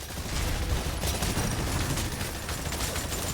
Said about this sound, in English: Deadeye specializes in engaging targets with gunfire and grenades.